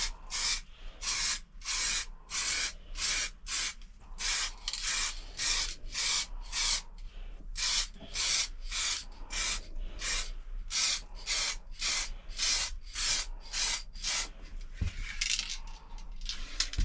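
An aerosol spray can fires short, loud hissing bursts in a steady rhythm of roughly twenty passes while painting a Rover Streetwise car panel at home, with brief pauses between strokes.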